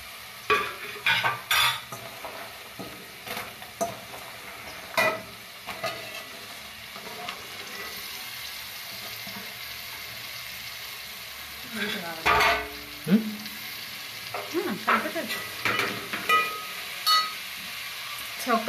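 Ridge gourd stirring and frying in a pan for a dal curry, with a soft sizzle underneath and intermittent scraping spoon strokes in bursts, a busier flurry of stirring near the end.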